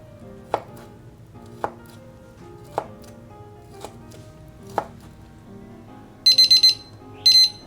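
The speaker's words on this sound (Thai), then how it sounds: "แล้วหั่นเป็นเส้นเล็กๆ" A knife chops ham into thin strips on a cutting board in five crisp strikes about a second apart, followed by bursts of rapid electronic beeping near the end.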